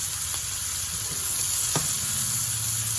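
Vegetables sizzle steadily in a hot oiled pan with spaghetti squash, a constant frying hiss broken by a few brief scrapes of stirring.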